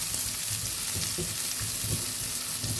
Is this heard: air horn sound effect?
no